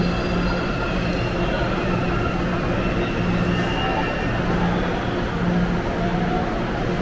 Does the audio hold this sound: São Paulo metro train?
yes